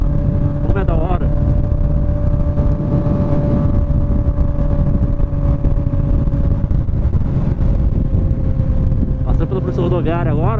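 Honda CB 1000R motorcycle with a straight-pipe 4-into-1 exhaust, riding at speed with a steady loud drone, engine pitch swelling near the start and the end, wind rush throughout and a rider talking over it.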